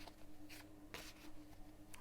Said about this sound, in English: I'm going to shuffle the cards, and then I'm going to pull two cards